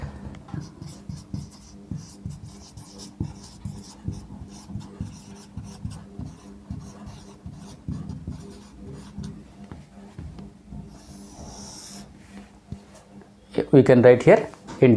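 A pen scratches steadily on paper while a math solution for a pair of linear equations is written out, a soft continuous scribbling with faint taps, and a voice talks over part of it near the end.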